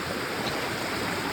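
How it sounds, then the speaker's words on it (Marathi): Fast-flowing water rushing steadily at night, a loud continuous broadband roar close by with no pauses or talking. "पानी का प्रभाव फास्ट है."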